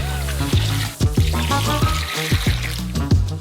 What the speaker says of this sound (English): Also pour in 1 liter of water.